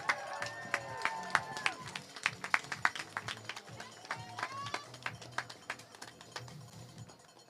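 Outdoor crowd applause with scattered sharp claps and crowd noise for a U20 ski sprint champion at the cross-country Junior National Championships in Lake Placid, steady and moderately distant.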